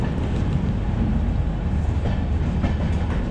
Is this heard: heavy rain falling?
no